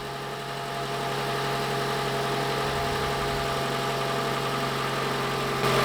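Car engine idling while warming up, with its revs expected to settle as it reaches temperature; a steady, close mechanical hum with a constant low throb and no other sounds over it.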